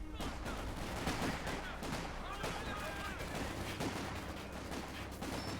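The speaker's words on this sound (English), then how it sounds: "Oh my god, that mortar." Mortar fire and gunfire in the World War II strategy game Company of Heroes 2, with repeated sharp blasts and crackling shots over a dense, busy battle bed, while a player talks over it.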